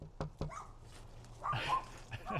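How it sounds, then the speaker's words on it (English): A dog gives a couple of quick, sharp barks up close, then whines and yips more softly, the sounds brief and set against quiet room noise. "There's his dog."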